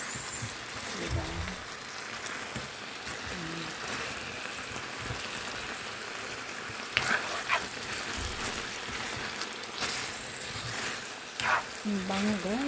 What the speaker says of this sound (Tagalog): tanggalin ko siya sa kawali, tapos igigisa ko yung sibuyas